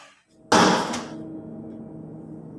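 A sharp wooden bang or thud hits close by, like a door or window swung hard in an abandoned mansion, then fades into a low hum.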